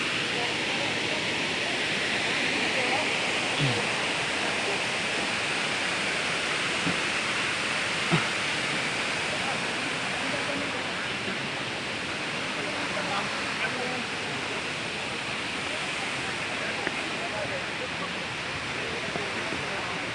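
Kuang Si waterfall in Luang Prabang, Laos, a steady, broad roar of falling water that holds constant without a break, with only faint small sounds over it.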